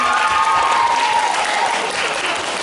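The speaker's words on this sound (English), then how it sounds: "can we have a huge round of applause for everybody who was" An audience at a cosplay ball talent contest gives loud, sustained applause, a thick wash of clapping with a faint voice or cheer rising briefly above it before easing off slightly toward the end.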